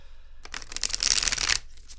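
Tarot cards are riffled and shuffled in one quick, close burst of dense papery flutter lasting about a second, alone without talk.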